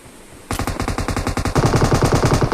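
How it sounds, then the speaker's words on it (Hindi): Rapid automatic gunfire in the battle royale game BGMI starts abruptly, then grows louder and denser, with sharp evenly spaced shots in a fast, continuous burst. "इतने में मेरे राइट साइड वाली बिल्डिंग में फायर होता है।"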